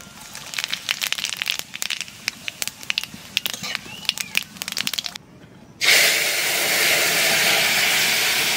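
Cumin seeds and bay leaves hit hot oil with sharp scattered crackles and pops, then after a short pause a loud, steady sizzling hiss takes over and continues.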